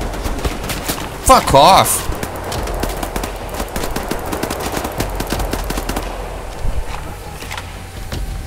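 Enemy gunfire in the shooter game Wolfenstein: The New Order, rapid cracking bursts of automatic weapons running steadily throughout, mixed under someone shouting angrily over the shots.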